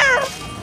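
A human voice lets out a brief, high, wavering meow-like cry, imitating a cat, close and loud.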